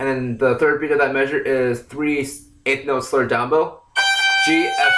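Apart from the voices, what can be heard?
None of the usual background noises is heard.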